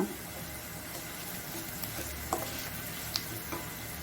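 Curry leaves fry in oil in a pan while being stirred for upma, a soft continuous sizzle with a few light clicks of the spoon, quiet and close with no speech.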